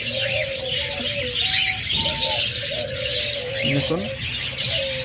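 A breeding pair of red-headed, red-eyed lovebirds chirps and tweets in repeated short calls, close by, over other cage birds cooing in the background, with someone speaking briefly.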